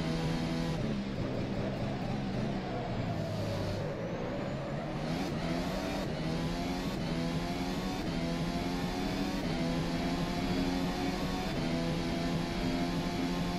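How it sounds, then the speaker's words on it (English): A racing car engine in the rFactor 2 sim game, a Formula SimRacing development car, drones steadily with rising and falling whine as revs shift, continuous and fairly loud with no pauses. "This car is completely wrong in terms of sound."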